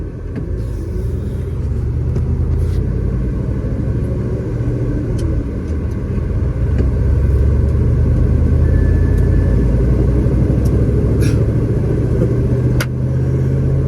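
A truck used for firewood delivery rumbles along the road with a steady, deep engine drone that swells slightly mid-way and holds constant and close throughout, with no voices over it.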